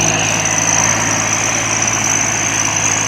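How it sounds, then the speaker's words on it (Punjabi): A modified Swaraj 855 tractor with no turbo and large wide tyres idles loudly and steadily up close, a constant rumbling drone with a high whine running through it. "ਇਹ ਬਾਈ ਮੋਡੀਫਾਈਡ ਟਰੈਕਟਰ ਆ"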